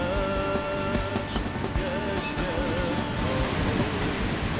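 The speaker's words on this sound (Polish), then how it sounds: "Teraz e, węglarki dostały wyjazd i sobie jadą" Coal freight wagons pulling away from a station in the MaSzyna train simulator, a steady rumbling roll with faint wheel squeal tones drifting over a continuous low mechanical bed, no talk.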